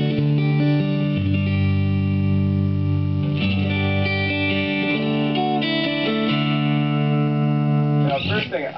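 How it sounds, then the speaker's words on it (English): Clean electric guitar with no pedal in the chain, played through a Heritage cabinet loaded with a Jensen P12N speaker. Sustained chords and single notes ring out continuously, with a brief scratchy strum near the end. "Let's do a clean tone without the pedal"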